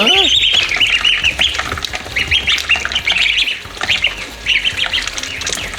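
A young goose and a duck squawk to be given water, with loud, close, repeated raspy calls in quick bursts throughout and a faint voice now and then.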